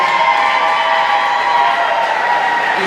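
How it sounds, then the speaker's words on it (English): Crowd cheering and applause for the Buffalo team after a 2019 championship game in an arena, a loud continuous roar of voices and clapping that holds at a steady level throughout. "Huge round of applause for Buffalo."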